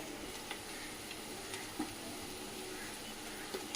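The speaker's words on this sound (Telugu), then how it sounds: "ఆనియన్స్ అయితే ఫ్రై అయిపోయింది, బాగా గోల్డెన్ కలర్లో వచ్చేసాయి కదా." Onions frying in a pan for a fish curry, a steady close sizzle throughout with a few faint stirring taps, no talking.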